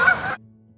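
A short, loud honk from a bird, likely a goose, sounds close by for a fraction of a second and then cuts off into quiet.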